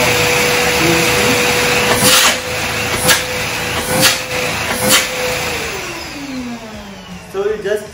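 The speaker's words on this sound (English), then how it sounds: "So you just saw a powerful suction was created at this end of the vacuum cleaner" A vacuum cleaner motor whines loudly and steadily, then winds down with a falling pitch, while a person talks over it.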